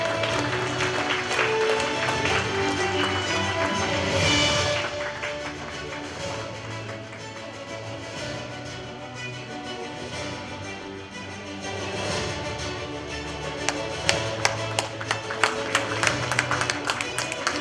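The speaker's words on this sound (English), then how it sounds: "A round of applause and congratulations." Sustained applause from a large crowd at an awards ceremony fills the room, steady and dense, with a few sharper individual claps standing out near the end.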